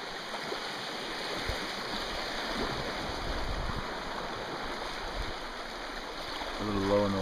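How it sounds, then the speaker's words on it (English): A canoe runs the rapids of the Jacks Fork River, with loud, close, rushing whitewater churning steadily throughout and a few low knocks and splashes against the hull. "Shooting the rapids."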